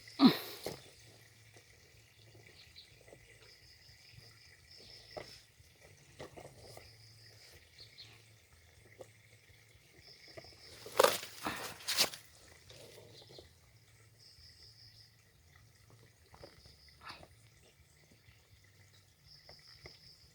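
Quiet trickling water with occasional drips, soft crickets chirping steadily in the background and a brief louder splash midway.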